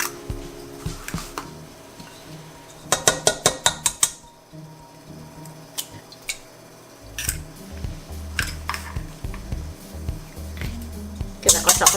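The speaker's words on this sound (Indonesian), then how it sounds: "Kita kocok lepas." Eggs being whisked in a bowl for a classic pecan pie, with quick bursts of clinking taps against the bowl's side that come in short rhythmic runs, separated by quieter pauses and softer kitchen handling noise.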